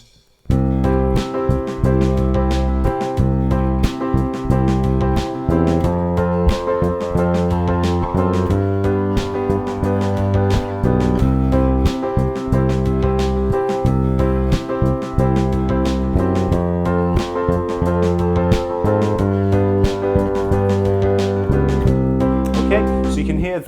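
Bass line played through with short, quick approach notes that come and go before landing on target notes, steady rhythmic plucking with harmonic backing throughout, no talking.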